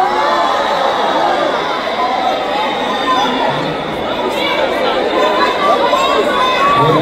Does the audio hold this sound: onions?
no